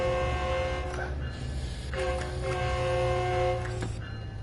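A train horn in Train Sim World 4 sounds in a few sustained, layered blasts over a steady low engine rumble, with brief gaps between them.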